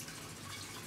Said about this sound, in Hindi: मैं ये पानी डाल रहा हूँ इसमें